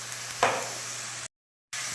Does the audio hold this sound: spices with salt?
yes